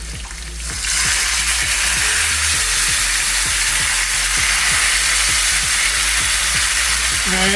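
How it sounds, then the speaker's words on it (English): Minced garlic dropped into simmering ghee in a pan sets off a sudden loud sizzle, close and continuous, building into a dense frying hiss with light crackles, with no one talking. "while it's simmering, I'm going to add some minced garlic to it."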